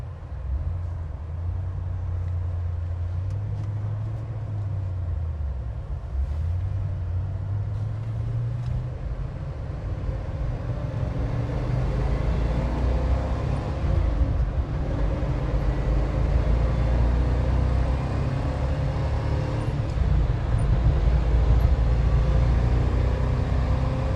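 A 1965 Pontiac GTO cruising at highway speed, its engine a steady low rumble with road and wind noise building gradually, heard from inside the car with no talk.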